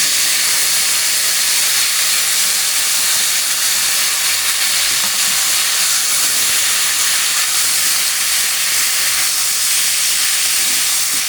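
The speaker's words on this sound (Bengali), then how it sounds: "এবার পুরো যেটা আমি ভেজে রেখেছিলাম তরকারিটা এর মধ্যে ভেজে দিলাম" A vegetable curry fries loudly in a pan, a continuous, dense, close hiss of sizzling oil holding steady throughout with no voices.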